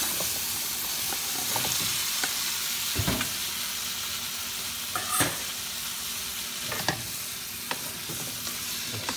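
Squash and crabs cook in coconut milk in a pan, a constant bubbling sizzle close by, broken by a few distinct scrapes and knocks of a spoon as the mixture is stirred.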